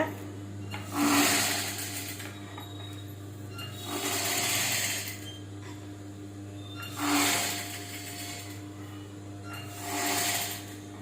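An electric sewing machine stitches along a saree edge in four separate bursts of rapid whirring, each lasting a second or two, with a constant low motor hum in the pauses between runs.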